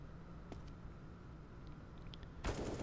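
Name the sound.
Five-seven pistol shot in Counter-Strike video game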